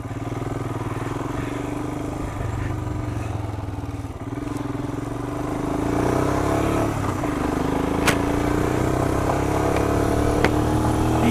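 A Royal Enfield Himalayan motorcycle rides along a woodland track in West Sussex. Its engine thrums steadily and close, swelling as it accelerates, with occasional clatter and knocks from the rough ground.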